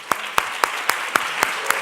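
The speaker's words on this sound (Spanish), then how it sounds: "vamos a darle un aplauso," A festival audience greets poet Rafael Cadena with a few slow, distinct claps spaced about a quarter second apart, sharp and close, rather than a full ovation.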